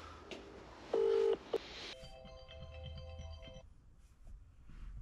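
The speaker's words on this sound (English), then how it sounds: "Let's get him on the phone now." A phone number is dialed at low volume: a short burst of touch-tone beeps, then a few seconds of steady electronic tones on the line, with quiet room noise around them and no speech.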